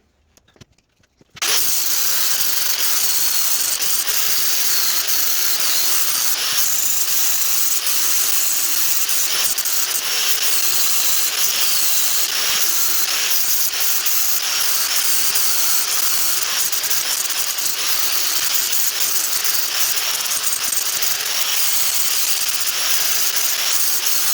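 A flap disc grinds paint off a 132-pound Vevor anvil, starting after a short quiet lead-in and then holding a continuous loud, bright abrasive whine close by without a break.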